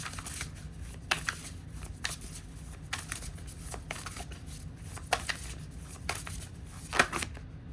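Tarot cards being shuffled by hand, several brisk riffling bursts at an uneven pace, close and fairly quiet, with one sharper riffle near the end and no talk.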